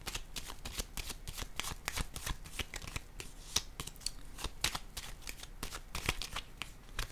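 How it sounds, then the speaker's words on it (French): A deck of playing cards being riffled and shuffled on a table: a rapid, steady run of soft papery flicks and taps, quiet and close, with no talking. "Je vais déposer une carte ici."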